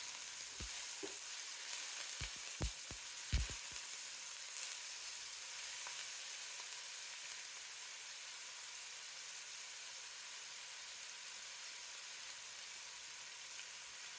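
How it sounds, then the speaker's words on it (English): Red onion sizzles steadily in hot olive oil in a pan, a broad constant hiss with a few sharp clinks of a utensil stirring early on, close and alone without talk. "adding my red onion."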